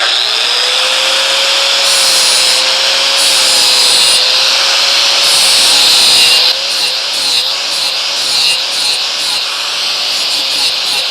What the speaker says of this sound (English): slide my Makita grinder here, and I have a 40 grit flapper disc.